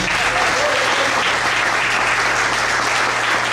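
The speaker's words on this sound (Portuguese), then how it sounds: "Será que você pode aplaudir o Senhor nessa noite?" Congregation applauding at an evening church talk for couples, a dense, steady wash of many hands clapping throughout at loud, even intensity with no pauses.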